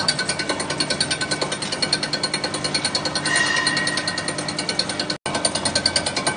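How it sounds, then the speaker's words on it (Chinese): A grinding wheel sharpens the blades of a jute cutting machine, giving a loud, rapid, evenly pulsing mechanical grinding that keeps up throughout, broken by one very brief dropout. "直到你看到这个砂轮跟刀片之间不再起火花，就这个刀片就磨好了。"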